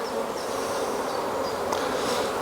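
Honey bees buzz steadily around an open hive during a comb change, a dense continuous drone with no speech.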